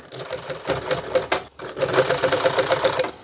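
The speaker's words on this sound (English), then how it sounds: "And then I sew right over it" A sewing machine stitches over welt cord on car seat upholstery for a 1966 Ford Galaxie, a loud, close, rapid rhythmic clatter with a brief pause midway before it runs on steadily.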